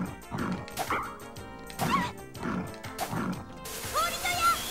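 Evil dogs in the Magic Knight Rayearth video game bark and yip in repeated sharp bursts, with crashing game effects and music mixed in.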